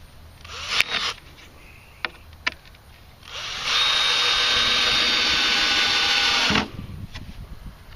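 Power drill whining steadily for about three seconds as it drives a screw into a cedar plank raised garden bed, preceded by a few short clicks and trigger taps, heard up close.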